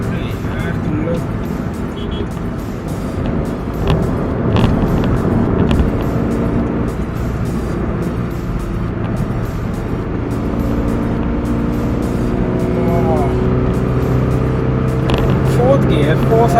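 A Honda City car engine accelerates through the gears, a steady loud drone under road and cabin noise that swells gradually toward the end.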